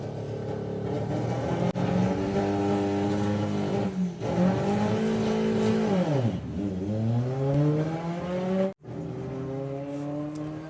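A VW Beetle drag racing car at the Springspeed Nationals, engine loud and close, revving hard through rising gear pulls with brief drops between shifts and a sharp cut near the end.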